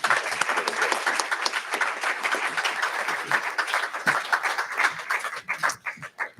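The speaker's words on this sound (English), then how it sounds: "let's give one more round of applause" A church family audience gives a sustained round of applause, dense clapping that stays loud and steady before thinning out near the end, with brief voices mixed in.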